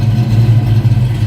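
A 1990 Ford Mustang LX convertible with a fuel-injected 5.0 V8 rumbles steadily at idle, a deep, even exhaust drone heard up close from behind the car with no talking.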